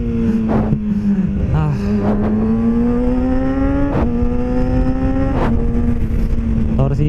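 Kawasaki ZX6R sport motorcycle engine idling steadily up close, its pitch creeping up and down with gentle throttle blips and a few sharp clicks, while someone talks over it.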